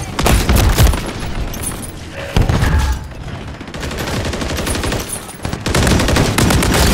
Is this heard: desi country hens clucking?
no